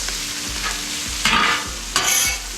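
Octopus and vegetables sear on a CampChef griddle, a close steady sizzle broken by two louder bursts of scraping and stirring as the food is turned.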